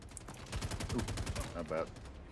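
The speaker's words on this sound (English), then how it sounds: "We are in heavy combat." Rapid bursts of gunfire from heavy combat in the space game Star Citizen, a dense run of repeated shots over about a second and a half with a brief voice-like sound near the end.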